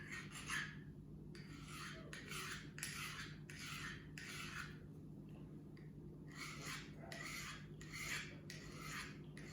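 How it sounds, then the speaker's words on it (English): A knife blade is honed on a handheld sharpener in repeated rasping strokes, about ten quick scrapes with short pauses between them, close and clear over a low steady hum. "the next few are actually going to really hone the blade"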